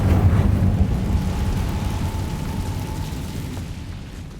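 The Incendio fire spell in Hogwarts Legacy bursts out as a deep rumbling blast that is loudest at the start and slowly fades over a few seconds, with no voices.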